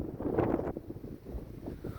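Strong gusting wind buffets the microphone outdoors ahead of an approaching thunderstorm under mammatus clouds, a loud steady roar with one heavier gust early on.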